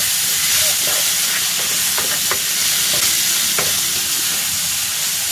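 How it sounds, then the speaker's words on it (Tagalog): Garlic and mixed vegetables sauté in a frying pan for chicken fried rice, producing a loud, continuous close-up sizzle and hiss with scattered stirring scrapes and ticks. "Gigisa ko na tong bawang. Ilalagay ko na dito itong mixed vegetables."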